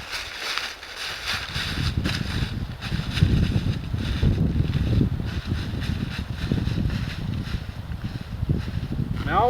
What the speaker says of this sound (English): not in this kind of wind.